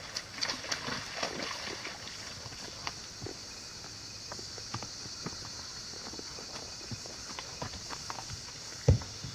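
Horse Jet Lena's hooves clip-clopping along a trail toward a creek and bridge, a faint, steady walking rhythm of separate hoof strikes at some distance, ending in a louder thump near the close.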